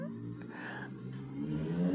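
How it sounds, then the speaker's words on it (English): A motorcycle passes outside, its engine note rising and growing louder toward the end, a moderately distant drone with a faint voice nearby. "that was a motorcycle that went by"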